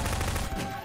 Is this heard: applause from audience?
no